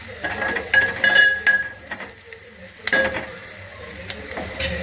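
Chopped onions and green chillies frying in a pan for a liver curry, a steady close sizzle with occasional spoon stirs and clinks against the pan.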